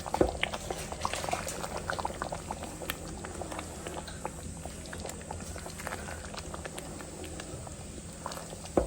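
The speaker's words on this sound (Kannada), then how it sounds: "ನೋಡಿ ಚೆನ್ನಾಗಿ ಕುದಿ ಬರ್ತಾ ಇದೆ" Paneer masala curry boils in a pot, a dense run of close bubbling pops and thick liquid plops that stays steady from start to finish.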